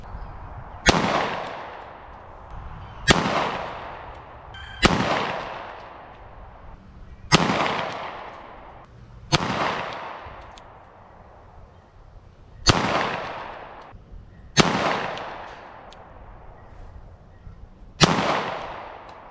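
Pistol shots ring out at targets 100 yards away, the Smith & Wesson 5906 or Arex Delta fired eight times at a slow, steady pace, each loud crack followed by a short echoing decay, with no talk.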